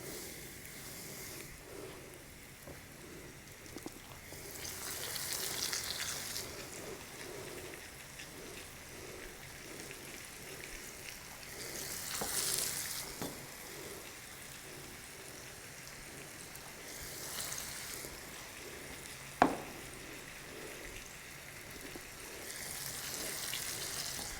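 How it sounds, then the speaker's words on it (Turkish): Lamb liver fries in hot oil in a pan, a steady hiss that swells in recurring bursts with a low bubbling crackle underneath and one sharp knock, close and fairly quiet without speech. "Kızgın yağımıza ciğerlerimizi silkeleyerek atıyorum."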